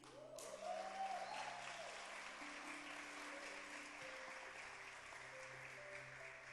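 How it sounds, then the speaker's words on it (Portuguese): A church congregation at a service claps together in sustained applause that fills the room, a steady wash of many hands that stays even in level throughout, with faint organ-like tones underneath. "me ajudem a receber com uma grande salva de palmas"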